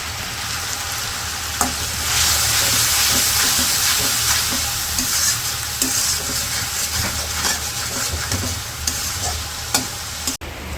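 Ground coriander, cumin, turmeric, chili and salt fry noisily in a pan, a loud continuous sizzle and hiss with occasional stirring scrapes and a sharp clank near the end.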